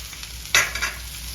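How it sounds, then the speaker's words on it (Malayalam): Okra is stir-fried and mixed in a pan for bhindi masala, with a steady low sizzle and one brief scraping stir from a utensil, close and short, with no voices. "വെണ്ടക്കായ ഇട്ട് കൊടുത്തിട്ട് ഇത് നന്നായിട്ടൊന്ന് മിക്സ് ചെയ്യാം"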